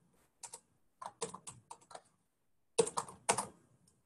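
Keystrokes on a computer keyboard while entering R code: quick clusters of sharp, close clicks, a short burst, a pause of nearly a second, then a denser flurry, with silence between.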